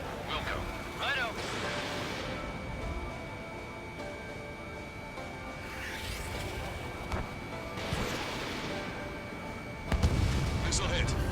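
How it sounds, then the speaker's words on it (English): Missile impacts and explosions in the combat flight game Ace Combat 7, a few booming bursts over a constant jet engine roar, with radio chatter voices in between. "Missile hit."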